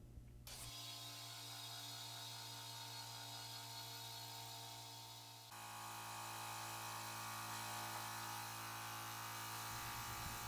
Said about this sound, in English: Turn on the air compressor.